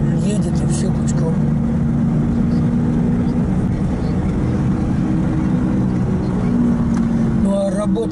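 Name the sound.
Mercedes-124 engine running on carburetor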